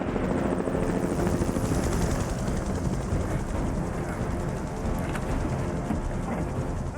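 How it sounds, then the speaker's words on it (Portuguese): A helicopter in a snowy wilderness rescue thunders continuously at steady loudness, its rotor chop and engine roar filling the whole stretch with no voices over it. "O helicóptero está chegando."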